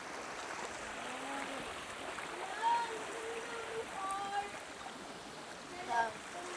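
A shallow, clear river in Magallanes, Cavite flowing steadily as a soft continuous wash, with a few small splashes and gurgles rising now and then, while voices talk nearby.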